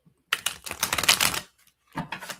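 Tarot cards being shuffled, a dense crackling riffle of card edges lasting about a second, then a shorter second burst after a brief pause, close and fairly quiet.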